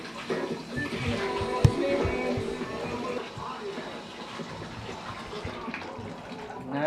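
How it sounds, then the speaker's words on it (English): Water runs from a tap into a container while ingredients are prepared for brick-oven pizza. A soft, steady rushing flow with a single sharp clink early on, under faint background noise. "Fill that up with water."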